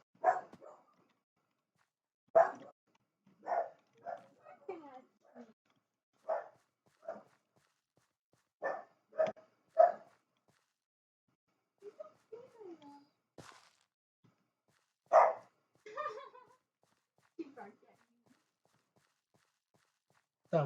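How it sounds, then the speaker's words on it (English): A dog barks upstairs, heard as a series of short, muffled barks in irregular bursts, some quick doubles, at moderate distance, with quiet gaps between them. "Dog is very barky upstairs."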